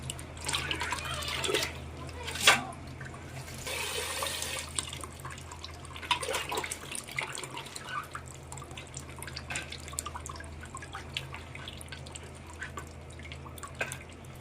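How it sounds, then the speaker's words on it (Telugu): Green chillies are washed by hand in water for Andhra-style gongura chicken, with gentle close splashing and dripping over a low background hum, and a few louder sloshes early on. "పచ్చిమిర్చిని ఒకసారి నీళ్ళల్లో కడుక్కుందాం."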